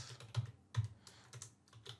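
Typing on a computer keyboard while entering a workflow name, a close run of quick, uneven key clicks with a few louder strikes.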